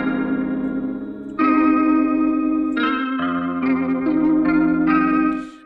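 Synthesized guitar tone from the Scorch plugin, processed with chorus, distortion and echo, playing a sequence of sustained, shimmering chord changes at steady loudness before fading out at the end; no voices.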